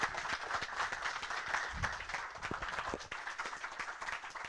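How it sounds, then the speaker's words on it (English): Audience applause at the close of a concept art demo and discussion, a steady spread of clapping from a crowd with no talking over it. "So let's give him a big round of applause."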